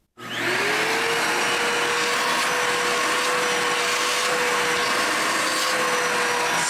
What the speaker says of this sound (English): Spindle is going, we are good.